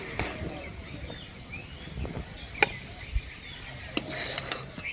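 Cooked small shrimp with gourd leaves being scooped from a pan, a quiet scraping and stirring of a utensil against the metal with a few sharp clinks, near and soft.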